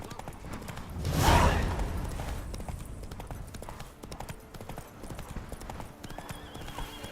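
Hooves of the horse Roach clop rapidly in The Witcher 3 video game, a galloping rhythm with a louder swell near the start and a brief whinny, continuing steadily under ambient game sound.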